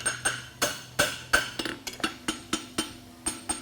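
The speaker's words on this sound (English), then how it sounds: "Using the round side of my hammer." Metal hammer blows from the round side of a farrier's hammer striking hot steel ring out one after another at a steady pace, about a dozen sharp strikes, close and loud, with clanging overtones, at a blacksmithing championship.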